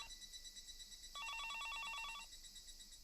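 A telephone rings downstairs in the Higurashi visual novel game, a single burst of bright, rapidly trilling electronic ringing lasting about a second, heard alone over a faint background hum.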